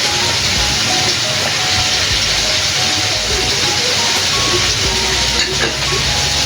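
Chicken satay sizzling in a Teflon pan as the pieces are flipped, a steady loud hiss with small crackles throughout.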